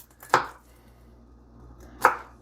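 Two sharp knife chops on a cutting board, spaced well apart, as the ends are trimmed off garlic cloves; close and fairly quiet with silence between strokes.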